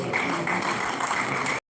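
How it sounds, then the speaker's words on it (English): An audience at a Nigerian Institute of Town Planners Oyo State chapter session gives a dense, even round of applause that holds steady, then cuts off abruptly. "A round of applause for"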